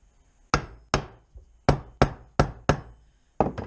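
Sharp metallic hammer strikes driving a part into a Polaris Trailblazer ATV transmission, eight close, loud blows at an uneven rhythm with short ringing decays between them.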